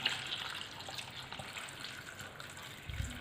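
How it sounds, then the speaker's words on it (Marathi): Water runs steadily from a tap into a bowl to wash grapes, a faint, continuous gushing hiss throughout without speech. "पुन्हा द्राक्षे बुडतील इतपत पाणी घालायचं"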